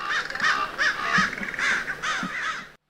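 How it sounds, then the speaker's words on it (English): A lone raven calls among a group of cawing crows, harsh caws repeating in quick bursts close by, with a few low croaks mixed in and no voices. "And here's the one raven again."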